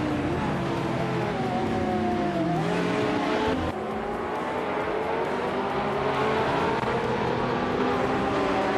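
Several BMW Z4M Coupe GT3 race car engines roar continuously in a racing video game at Central International Circuit, with rising and falling revs and gear shifts at loud, steady intensity.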